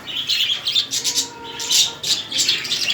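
Pet budgerigars in their cage chatter and squawk in a rapid, busy stream of bright chirps, close and fairly loud with little pause.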